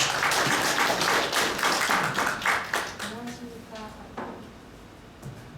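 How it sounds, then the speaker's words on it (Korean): An audience at an ultrasound academy lecture claps to welcome the lecturer, a dense burst of applause that thins into scattered claps and fades, with a voice speaking briefly near the end. "큰 박수로 부탁합니다"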